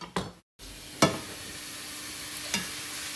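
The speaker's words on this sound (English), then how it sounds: "Give them a little bit stir around, make sure they're not sticking." Mushrooms sizzle in a pan for pork stroganoff under a low steady hiss, broken by a few sharp scraping stirs and one brief gap of silence near the start.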